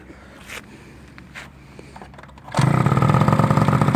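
A Peugeot 103 Fox moped engine catches after a couple of seconds of quiet, then settles into a loud, steady two-stroke idle with a rapid buzzing rhythm, close to the microphone.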